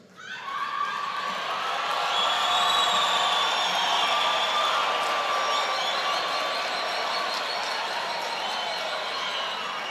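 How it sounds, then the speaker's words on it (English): A large audience at a university graduation ceremony cheers and applauds graduates in a sustained, roomy wash of clapping and whoops that holds steady throughout. "can I equally request you to stand and give our graduates a big round of applause."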